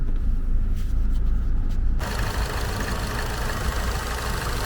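Vauxhall Insignia 1.4 Turbo engine running steadily with a low rumbling drone, close and loud, the background brightening into broadband noise halfway through.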